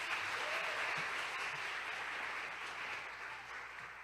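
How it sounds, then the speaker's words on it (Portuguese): An audience at the VEJO Celebra 2025 event applauds Vitor with sustained, even clapping from many hands that eases off slightly toward the end. "Uma salva de palmas pro Vitor."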